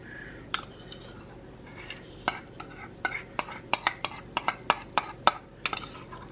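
A spatula scrapes golden, cheesy tuna melt from a pan into a salad, a series of sharp metallic scrapes and clinks that quicken into a steady rhythm, close and clear.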